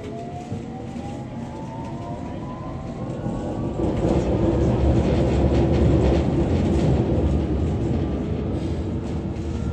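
A London Underground Hammersmith & City line train runs along the track toward Barking, its steady rumble and wheel noise swelling louder partway through and holding strong, with faint squealing tones early on.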